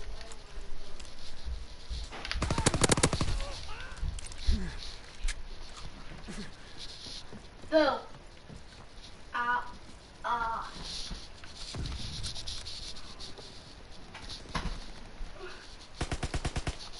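Gunfire in a WWII video game, with a loud burst of rapid automatic shots early on, scattered single shots and short bursts afterward, and another rattling burst near the end, over a busy battle background.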